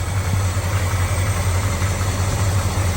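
A 1970 Chevrolet El Camino engine idling, loud and close, a steady low rumble with an even pulsing throb and no talk over it.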